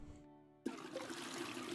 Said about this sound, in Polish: spuściła wodę